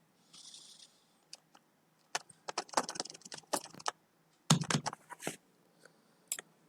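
Keystrokes on a computer keyboard come in quiet scattered bursts, with brief pauses between clusters of rapid clicks.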